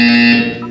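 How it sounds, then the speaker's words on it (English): A loud, harsh electronic buzzer from the video game Portal 2 sounds once, a flat held tone that fades out after about half a second. "When you hear the buzzer, look up at the ceiling."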